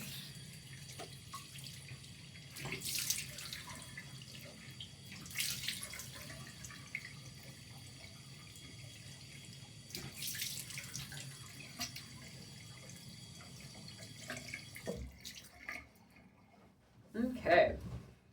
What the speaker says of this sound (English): So this one you do want to really thoroughly rinse with water and dry your face.